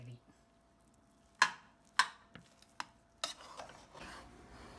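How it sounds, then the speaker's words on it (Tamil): Ghee being mixed into cooked lentil rice: a few distinct wet, squelchy stirring strokes with spoon knocks against the vessel, spaced irregularly in a quiet setting. "நெய் போட்டு ஒரு கலக்காய் போட்டால் சாப்பாடு பிரியாணி ரெடி."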